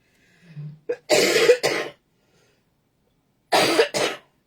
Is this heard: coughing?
yes